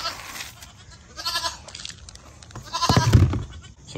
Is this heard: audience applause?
no